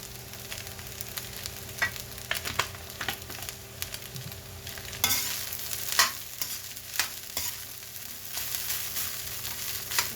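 Sinangag, Filipino garlic fried rice, is stirred and tossed in a hot pan. Repeated scraping strokes of a spatula sound over a constant light sizzle, close and fairly quiet, with no talking.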